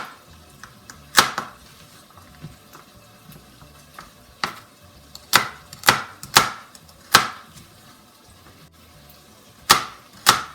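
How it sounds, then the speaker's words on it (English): Carrots chopped on a board with a French ball knife, about a dozen sharp, distinct cuts in an irregular rhythm, close and fairly loud against a quiet background with no talking. "So I'm cutting up my carrots, and it just goes right through them."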